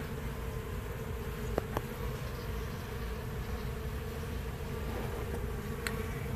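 Honeybees hum inside a trailer during a hive removal in Auburndale, Florida, a faint, steady low drone that holds throughout, with a couple of soft clicks near the start.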